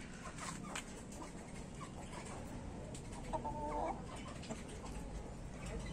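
Hens clucking steadily over a busy rooftop farmyard background, with a brief louder burst of clucks near the middle.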